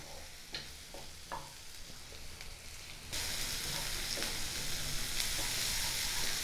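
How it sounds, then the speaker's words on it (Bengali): Ginger and garlic paste stirred and fried in a pan, giving a steady close sizzle with scraping spoon strokes; the frying grows louder and brighter midway and continues without speech. "আদা বাটা এবং রসুন বাটাটা দিয়ে আবারও কিছুক্ষণ নাড়িয়ে চাড়িয়ে ভেজে নেব"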